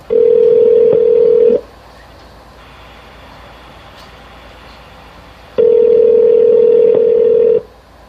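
Two long, loud steady telephone tones, each about a second and a half, separated by a quieter gap, heard while a phone call is being placed.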